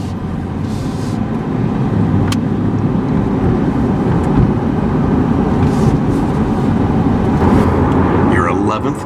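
A Rapid Blue C8 Corvette Stingray pulls away with a sustained engine and road rumble, and people talk nearby over the sound.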